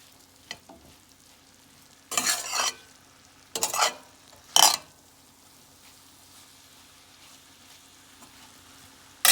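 Meat with thyme, paprika and onions cooking in a pan for a plantain lasagna, with three loud bursts of stirring and sizzling separated by quiet stretches.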